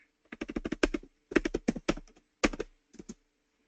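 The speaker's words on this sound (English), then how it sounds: "I'm typing it, but it's not going on there." Fast typing on a computer keyboard, close and crisp, in three quick bursts of rapid key strikes with short pauses between, no talking.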